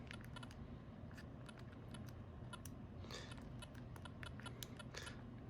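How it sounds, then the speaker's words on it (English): Rapid, uneven key clicks from the small keyboard of a palmtop PDA, tapped in bursts with brief pauses, close and fairly quiet against a faint hiss. "I want to test out the keyboard."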